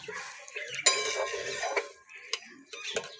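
A metal spoon stirs mung dal filling in a pan, giving a few scattered scrapes and sharp clinks against the metal at close range. There are short quiet gaps between the strokes.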